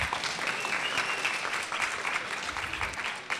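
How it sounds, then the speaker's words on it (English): Steady applause from a lecture audience at a public science and cooking talk, even continuous clapping at moderate volume with little else heard. "So we clap for equations."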